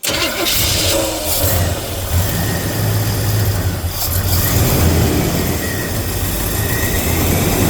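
A carbureted engine in a 1975 Chevrolet El Camino cranks and catches, settling into a loud, steady, rough running roar that holds close and constant with no talk over it.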